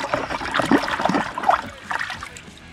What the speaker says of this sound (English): you just put it in a bit of water,